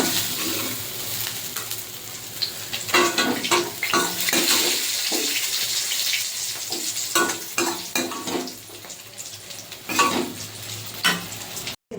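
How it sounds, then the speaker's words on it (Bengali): Onion, green chili and garlic sizzling in a hot pan, a continuous close hiss broken by bursts of stirring and scraping, with no talking. "পেঁয়াজ, কাঁচা লঙ্কা, রসুন সব ভাজা হয়ে গেছে"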